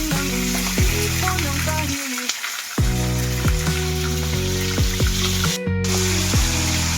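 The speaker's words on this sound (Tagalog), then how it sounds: "So, yan, ipiprituin na po natin. Ayan po yung kawali, mainit na mainit na po itong mantika." Tulingan fish fries in very hot oil in a pan, a loud continuous sizzle with crackling that holds steady throughout, with a brief dip partway through and tonal sounds underneath.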